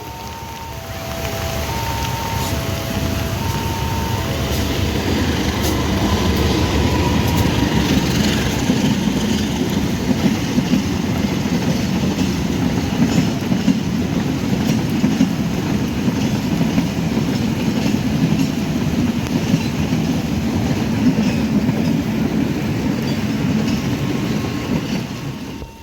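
An Argo Dwi Pangga passenger train rolls into Yogyakarta station, a loud steady rumble of wheels and carriages with rhythmic clickety-clack on the rails, running continuously; a few short tonal chimes or horn notes sound near the start.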